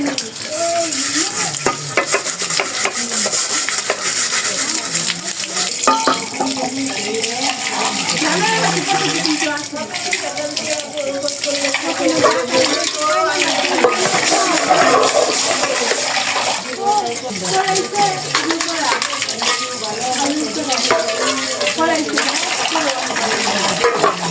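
Running water rushes steadily and close by while a pot or dishes are washed and rinsed in a home kitchen, a continuous loud splashing flow lasting throughout with small clanks mixed in.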